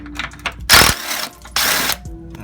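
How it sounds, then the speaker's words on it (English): Bolts being removed from the fender of a fourth-generation Chevrolet Camaro with a ratchet, giving two loud bursts of rapid clicking separated by brief pauses and faint mechanical rattles, close up without talk. "Get the bolts out of here."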